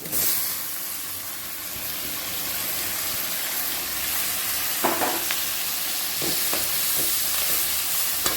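Onion and tomato frying in a pan for Tamil-style garlic rice (poondu sadham): a steady, close hissing sizzle throughout, with several sharp scraping stirs of the spoon near the end and no speech.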